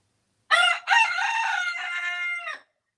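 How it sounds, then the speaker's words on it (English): A rooster crows close by, two loud sustained cock-a-doodle-doo calls running together over about two seconds, alone with no talk. "Let's get the bowl, shall we? Because bird song is playing."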